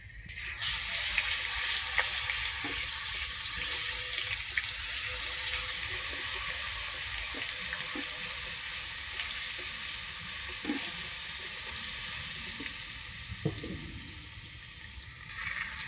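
Sugar and garlic paste frying in oil, a steady close hiss and crackle with faint clinks of stirring throughout and a brief bump near the end, no voices.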